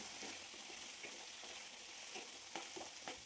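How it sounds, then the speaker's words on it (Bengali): Potatoes stirred and frying in a pan for egg paratha with potato curry, a steady close sizzle broken by scraping knocks of the spatula, no voices. "আলুগুলোকেও কিছুক্ষণ নাড়াচাড়া করে হালকা লালচে করে ভেজে নিতে হবে"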